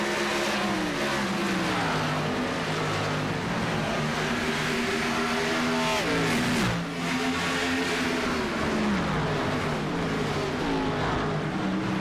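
Race cars in the Monster 200 Rush Championship Series at Dover Motor Speedway roar around the track in a loud, dense pack, engine notes rising and falling as cars sweep past, with no voices.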